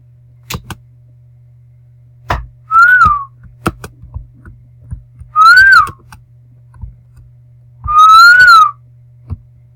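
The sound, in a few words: person whistling to soothe a horse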